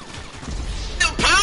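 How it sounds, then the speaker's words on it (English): Two sharp gunshot bursts ring out in quick succession near the end of a short stretch of game noise, part of corner-shooting gunfire in GTA Online, with someone talking over them. "The power of corner shooting, bro, is so deadly"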